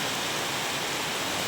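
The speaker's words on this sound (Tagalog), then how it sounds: "lakas na ulan na dito. Buong gabi," Heavy rain pours steadily through the night, a dense, even hiss with no breaks and no voices.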